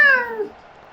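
A cat in the video game Cabernet gives a single clear meow, close and fairly loud, that slides downward and fades within half a second.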